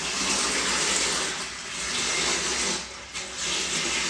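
Water poured from a tap into a pot for steaming in a home kitchen, a steady, fairly loud rushing flow lasting several seconds with a couple of brief dips and no talk.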